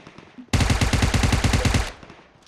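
A sharp, loud burst of automatic rifle fire in PUBG Mobile rattles off as a tight rhythm of evenly spaced shots for about a second and a half, then cuts off.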